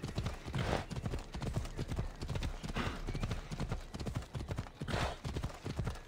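Horse hooves clip-clop steadily on hard ground in Assassin's Creed Odyssey, a close, continuous rhythmic trot running the whole time, with an occasional snort.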